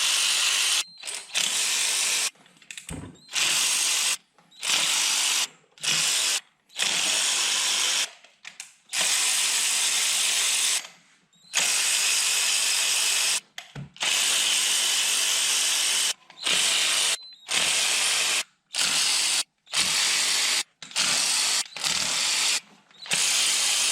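A ratchet wrench clicks in repeated bursts while spark plugs come out of a Mercedes engine with a knocking fault, loud and close, each run of rapid pawl clicks separated by brief silent pauses.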